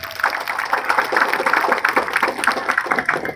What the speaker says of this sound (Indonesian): Maka tepuk tangan untuk pondok pesantren.